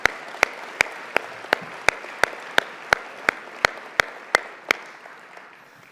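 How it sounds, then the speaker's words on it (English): Conference closing ceremony audience applause for sponsors, heard here as a regular series of about fourteen sharp, evenly spaced claps over a faint hiss that stop before the end. "So let's give all of our sponsors a big round of applause"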